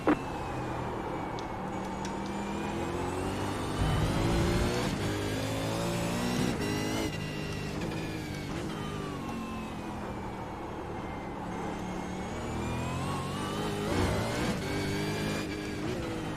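V8 Supercar race cars in iRacing at Oran Park, engine note rising and falling through repeated gear shifts and braking over a long stretch, loud and close throughout.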